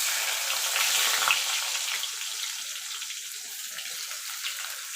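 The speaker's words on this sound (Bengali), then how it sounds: "ফোড়নে দিয়ে দেবো 2টো তেজপাতা, সামান্য একটুখানি গোটা জিরে" Two bay leaves and a pinch of whole cumin seeds sizzling in hot oil as the tempering for a chicken curry with papaya and potato, giving a steady close hiss that eases slightly after the first second, with no voices.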